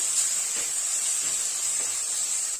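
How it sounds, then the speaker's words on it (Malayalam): Coriander leaves and mint are sautéed in a pan, giving a continuous high, airy hiss that holds steady for a few seconds with no voice over it. "ഇതും കൂടിയിട്ടൊന്ന് വഴറ്റി കൊടുക്കാം."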